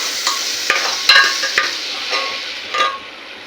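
A close, steady sizzle of eggplant and potato curry frying, broken by a handful of sharp spatula scrapes and taps against the pan at uneven intervals.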